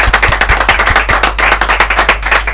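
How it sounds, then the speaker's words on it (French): Rhythmic applause for a tennis club sponsor: sharp, close claps beat steadily and loudly for a couple of seconds with no speech over them. "On peut même l'applaudir s'il vous plaît"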